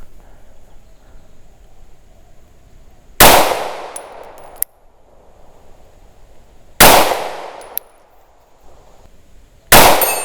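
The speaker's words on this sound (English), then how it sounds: "I have not done a lot of pistol shooting in about a month." Three loud, sharp pistol shots from a CZ P-10 at a range, spaced a few seconds apart, each with a brief ringing decay and quiet between them.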